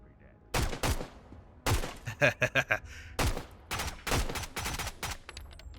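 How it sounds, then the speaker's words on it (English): Pistol shots in the video game Road to Vostok crack out in a quick series of sharp, loud bursts, some single and some in tight rapid clusters, with quiet gaps between them. "They just hear the gunshot and they immediately react."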